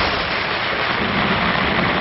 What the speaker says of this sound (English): A tropical storm suddenly erupts over Kuala Lumpur.